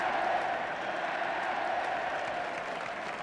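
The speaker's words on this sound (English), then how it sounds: "Alan Gilzine, in fact, is getting a tremendous round of applause from the crowd here." A football match crowd applauds steadily, a dense continuous roar of clapping from many spectators in a stadium, sustained at even loudness throughout.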